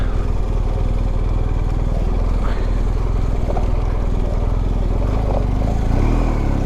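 An adventure motorcycle engine drones steadily as the bike is ridden standing over technical terrain, a loud close rumble with small throttle changes.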